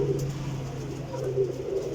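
Pigeons coo softly in a loft, low repeated throaty calls over a steady background hum.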